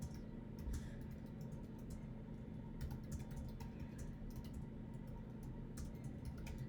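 Steady typing on a computer keyboard, quick irregular clicks over a low constant hum, fairly faint and with no voices.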